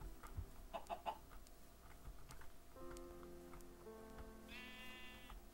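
Minecraft chickens cluck in a game world, with several short clucks early, then sheep-like bleats and layered in-game tones that fill the rest of the short stretch at moderate volume, with no talk.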